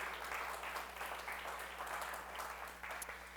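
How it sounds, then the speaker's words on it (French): A church congregation claps for a young girl who sang and her parents, a soft, steady patter of applause heard from a distance under a constant low hum. "Est-ce qu'on peut les applaudir?"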